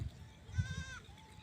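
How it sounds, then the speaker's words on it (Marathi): Goats bleat while grazing freely on green fodder on a farm in summer; one clear, wavering bleat rises mid-clip over soft rustling and low background noise. "इकडं सोडलेल्या आहेत ह्या शेळ्या."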